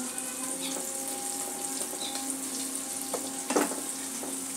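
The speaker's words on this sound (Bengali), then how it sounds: "পেঁয়াজটা একটু সময় নিয়ে ভাজতে হবে" Onions fry slowly in a pan with a faint, even sizzle, and one short clatter sounds near the end.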